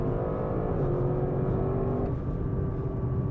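An Audi RS6 Performance engine drones steady and loud on launch, its pitch holding and shifting slightly over a dense, continuous rumble with no gaps.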